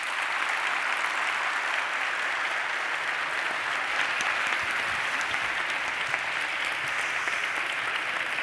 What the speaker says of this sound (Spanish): Venga, aplauso.